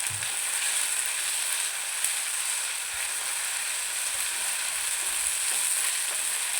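Ginger, garlic and green chili paste sizzles steadily in a hot pan while being stirred, a continuous bright frying hiss with faint scraping throughout and no talk.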